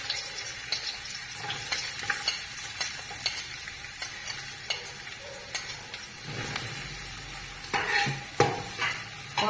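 Two chopped onions sautéing in a hot pan with a little salt, a steady sizzle broken by scraping stirs and soft clinks of a utensil against the pan.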